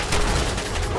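A burst of gunfire in the video game Fallout 4 comes as a dense, noisy crackle of shots lasting about a second, fairly loud and with no speech.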